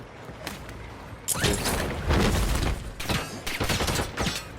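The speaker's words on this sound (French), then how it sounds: "J'essuie des tirs." Gunfire in the video game Warzone is aimed at the player: dense bursts of rapid shots come in waves over a rumbling background, loud and close, with no clear talk.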